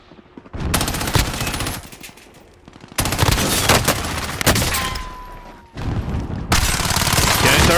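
Loud bursts of rapid automatic gunfire from the video game Warzone, several sustained volleys with brief pauses between them, up close and dominating.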